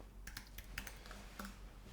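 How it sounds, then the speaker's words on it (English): Several quick clicks of computer keyboard keys being pressed, including the return key, come as a short burst of close, crisp taps in a quiet room. "hit return on the keyboard, return on the keyboard"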